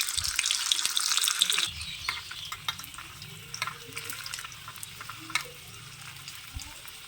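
Chicken balls dropped into hot oil in a kadai, with a louder bubbling sizzle at the start that settles into quieter, steady frying crackle and occasional pops.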